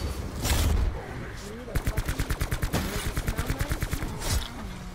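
Gunfire in Black Ops 4 Zombies, a fast run of closely spaced, evenly timed shots like a burst of automatic fire, preceded by louder impacts and mixed with faint game noise.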